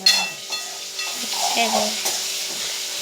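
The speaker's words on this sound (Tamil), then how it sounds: "இப்போ நல்லா கிண்டிக்கணும். வெங்காய தக்காளி வளைஞ்சிருச்சு, அதனால கிண்டணும்." Softened onion and tomato are stirred in a hot pan, a soft close sizzle and hiss with a few scraping strokes, fairly loud and steady over three seconds.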